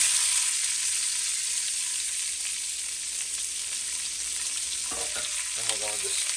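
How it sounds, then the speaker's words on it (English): Two medium quartered onions frying in a pot for a corned beef Guinness stew, a steady close sizzle with a few short scraping stirs near the end. "we're going to just stir those and cook those at a medium heat"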